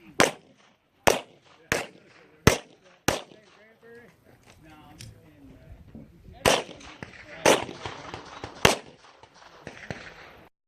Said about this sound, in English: I always forget how much louder the pistol is inside of a building like that